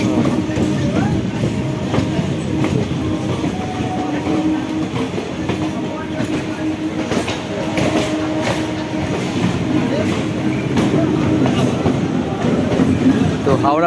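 A train rolls into Howrah station with steady rumbling, rhythmic clickety-clack of wheels and faint brake squeals, carrying on continuously and fairly loud throughout, with indistinct crowd voices mixed in.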